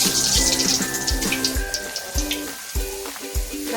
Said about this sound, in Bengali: দেখো আমি এবার লুচিগুলো তেলে ছাড়ছি।